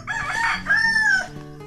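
A rooster crows nearby in a rural yard, one loud drawn-out cock-a-doodle-doo with a rising then falling call, preceded by brief clucking, with no talking.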